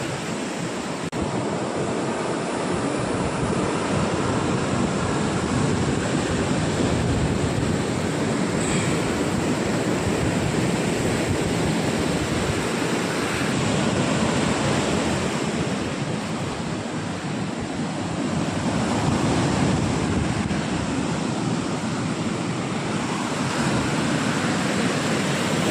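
Sea waves wash up on Azheekode beach in a continuous loud roar of surf, with wind mixed in and gentle swells in intensity over about twenty-five seconds, with no talking.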